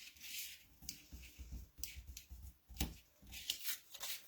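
Small holes being popped out of a punched paper sticker sheet make a run of quick, crisp paper crackles and snaps, close and fairly soft, with no talking.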